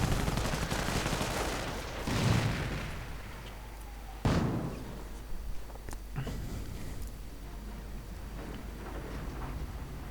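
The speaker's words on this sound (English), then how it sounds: "On-map artillery really blowing those grenadiers to hell." 25-pounder on-map artillery in a strategy video game fires booming shots and blasts at grenadiers, several sharp reports spaced through a noisy battle soundscape with scattered gunfire.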